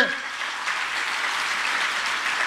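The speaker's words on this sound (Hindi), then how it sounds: "तो फिर जोरदार तालियों से" A crowd at a Delhi government school event gives Manish Sisodia loud applause, a dense burst of many hands clapping together that holds steady throughout.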